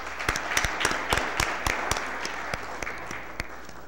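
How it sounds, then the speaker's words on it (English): A short burst of applause from the audience at a city board of aldermen meeting, moderately distant and steady with distinct individual claps standing out. "so let's give him a round of applause."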